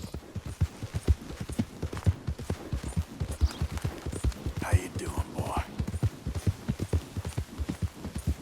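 Horse hooves clip-clopping at a steady riding gait in the video game Red Dead Redemption II, a continuous rhythmic series of close, loud beats with someone talking over them.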